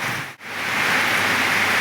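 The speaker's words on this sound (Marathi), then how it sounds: "पण तरी पाऊस पडतोय" Steady heavy rain hisses loudly and close, a dense continuous wash of drops with a brief dip near the start.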